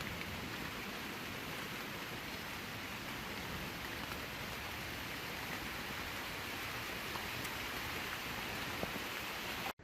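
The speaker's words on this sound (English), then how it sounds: "It's starting to rain a little bit, but no big deal there." Light rain falls at a beach on Guam, a steady, even hiss of fine drops with no breaks, soft and unchanging across the whole stretch.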